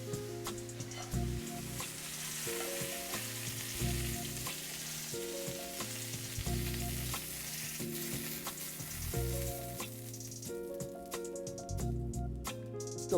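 Chicken cutlet frying in a pan for a piccata dish, a steady sizzle running throughout under background music with no talking.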